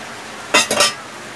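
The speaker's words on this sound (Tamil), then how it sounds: "நல்லா மிக்ஸ் பண்ணிக்கோங்க, இல்லை அடி பிடிச்சிரும்." A spoon scrapes and clinks twice against a pot of milk-based moong dal payasam as it is stirred, a brief close pair of strokes over a quiet background.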